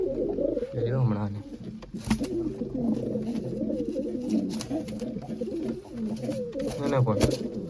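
A pigeon coos nearby in soft, low rolling phrases that repeat a few times, while people talk over and between the calls outdoors.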